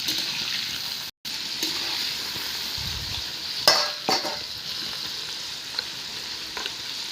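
Food sizzles steadily in hot oil in a village kitchen in the Andaman Islands, before the onion, garlic and ginger paste goes in, with occasional stirring scrapes and a brief dropout near the start.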